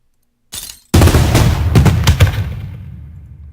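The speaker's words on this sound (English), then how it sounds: "Sounds like fireworks to me still." A dense burst of fireworks-like bangs and crackles from Payday 2 game audio: one short bang, then a loud rapid volley of pops over a low rumble that fades out.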